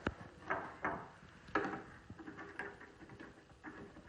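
A handful of soft, irregular pops and clicks from the door hinge of an LG LMV1762ST microwave oven popping out, close by and fairly quiet, with a faint rustle between them.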